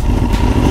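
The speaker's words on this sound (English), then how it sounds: "Start the bike." A sportbike motorcycle engine running steadily right after starting, a close, loud low rumble with no break.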